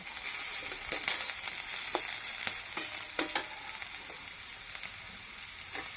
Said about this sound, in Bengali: পেঁয়াজটা ভাজা ভাজা হয়ে গেছে এখন আমি আলুটা দিয়ে দেব